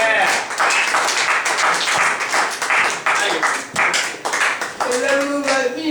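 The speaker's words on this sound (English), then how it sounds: "You've got to give Pons a round of applause" An audience at a hedonism-themed tabernacle show claps in a crisp, uneven burst that carries on for several seconds while voices talk and cheer over it.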